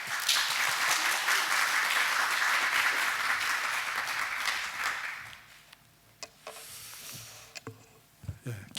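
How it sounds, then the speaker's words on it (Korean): Congregation at a Sunday church service applauds steadily for about five seconds to welcome the pastor, a dense, loud wash of clapping that fades out into scattered small knocks and room sounds. "우리 목사님 나오실 때에 박수로 환영하도록 하겠습니다."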